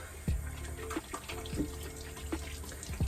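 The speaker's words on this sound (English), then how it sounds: "I wet the soap" Cold tap water runs steadily into a bathroom sink while a bar of soap is wet under the stream, with a few soft splashing knocks from hands moving in the flow, close and moderately loud.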